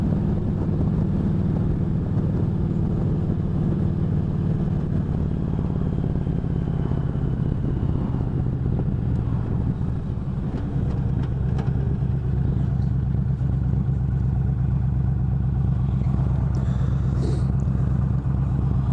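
Yamaha V Star 1300 motorcycle engine revving on a highway, a steady loud rumbling drone with low throbbing pulses and wind noise, continuous throughout with no talk.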